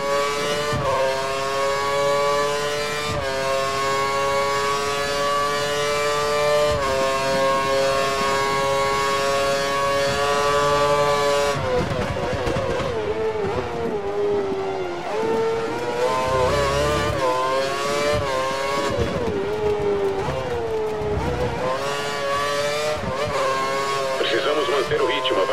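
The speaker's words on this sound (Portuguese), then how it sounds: "carro atrás de você está acelerando tudo e dando o máximo do motor" A Formula 1 race car engine from the 2013 racing game screams at high revs close behind, its tone climbing and shifting steadily as it pushes to the limit, with talk over it.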